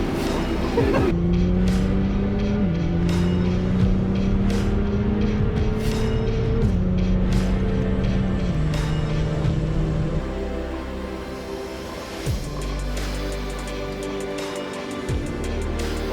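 A 925bhp tuned GTR drives under load, its loud engine note rising in pitch and then dropping in a series of clear stepped paddle-shift gear changes before easing off to a lower, steadier rumble.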